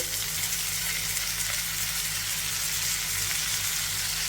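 Spinach sizzles in a pan with onions over medium flame, a steady close hiss of frying under a low continuous hum, with no speech.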